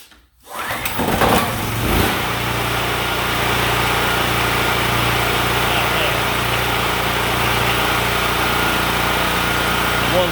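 A Titan 8000W generator engine fires from a cold start after a brief pull, then settles into a loud, steady, buzzing run that continues unbroken to the end.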